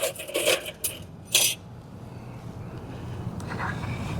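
A spoon clinks against dishes in a home kitchen during goulash cooking, giving a few quick, light metallic taps near the start and one brighter clink, then near quiet with a faint background hum.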